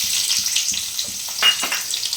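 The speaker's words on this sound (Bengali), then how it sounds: "এরপর আমি পেঁয়াজ দিয়ে দেবো, পেঁয়াজ কুচি।" Chopped onions go into hot oil already seasoned with dried red chillies, nigella seeds and bay leaves, hissing in a bright close sizzle with a few stirring scrapes, brief and without voices.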